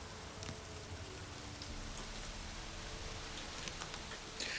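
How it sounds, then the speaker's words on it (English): Steady rain falls in the Witcher 3 game world as a soft, constant hiss with scattered droplet ticks. It stays faint and even throughout, with no talk. "The game is just so beautiful when it rains, especially at morning time."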